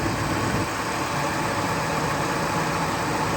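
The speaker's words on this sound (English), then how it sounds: "a knocking noise and I'm trying to figure out what it is." A 2000 Ford 5.4 engine runs steadily with a suspected knocking fault, a continuous close idle drone and dense rumble with no distinct knock standing out.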